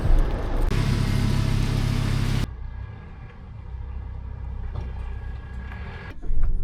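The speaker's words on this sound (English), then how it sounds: "Let's move some cars." A car engine runs close by at a loud, steady drone, then drops abruptly to a quieter idle hum as the cars are moved, swelling louder again right at the end.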